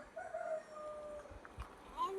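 A chicken makes short, faint clucking calls, with people talking nearby.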